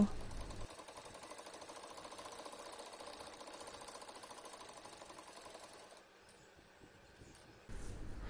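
A sewing machine hums and ticks quietly while stitching a side pocket seam on a kurti, a steady, faint mechanical rattle that lasts most of the time before easing off near the end.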